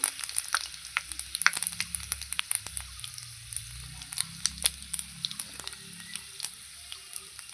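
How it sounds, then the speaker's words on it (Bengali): Panch phoron and dried red chillies sizzle in hot oil, a quiet, steady crackle with frequent small pops and soft stirring scrapes, and no talking over it. "তিনটে শুকনো লঙ্কা ফোড়নে দিয়ে দিয়েছি ফোড়নটা একটু নাড়াচাড়া করে নেব"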